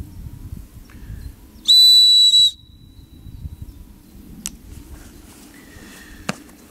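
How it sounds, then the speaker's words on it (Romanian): A whistle attached to a 55-litre hiking backpack is blown once, a single piercing high tone lasting under a second, set against quiet handling noise and a couple of faint clicks. "Am un fluier"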